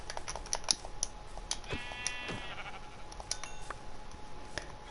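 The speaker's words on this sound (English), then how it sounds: "I killed another sheep," A sheep bleats in the Minecraft video game, one drawn-out call in the middle, over steady computer keyboard typing clicks throughout.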